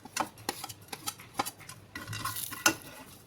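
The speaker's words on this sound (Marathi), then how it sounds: "आता आपण हे गरम मसाला थोडासा परतून घेऊ." Garam masala being sautéed in oil while a spoon stirs it, producing a series of sharp taps and scrapes against the pan over a faint sizzle, close and without talk.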